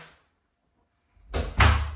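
A newly fitted interior door swinging shut onto its latch and keeper, a short silence then a close double clack as the latch catches and the door settles.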